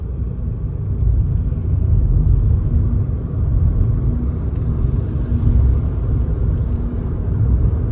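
A VW or Skoda car with Active Cylinder Technology accelerates in fourth gear through traffic, its engine under load giving a steady, loud low rumble that swells slightly as speed builds, with no talk over it.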